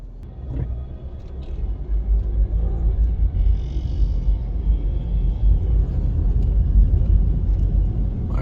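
A car drives from Half Way Tree along Hope Road and Lady Musgrave Road toward Devon House. The cabin is filled with a steady, moderately loud low road-and-engine rumble throughout, and no one speaks.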